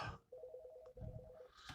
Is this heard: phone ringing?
yes